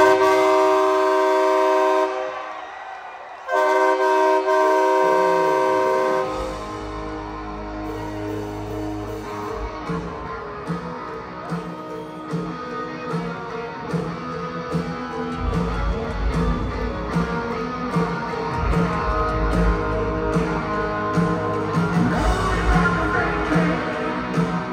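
A loud train horn blares, cuts out briefly, then a rumbling train rolls past with rhythmic clatter and steady heavy noise, at a rock concert in Sydney.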